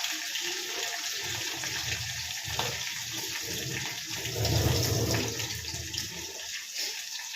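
Tap water running steadily while coriander and curry leaves are washed in a kitchen, a continuous splashing rush with brief surges and no talking.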